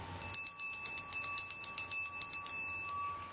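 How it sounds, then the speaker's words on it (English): Set of antique Tibetan temple bells of different sizes struck in a quick, steady run of clear metallic rings, bright sustained tones hanging and overlapping, close and moderately loud with no voices. "a set in different sizes of supposedly antique Tibetan temple bells. But just a beautiful sound."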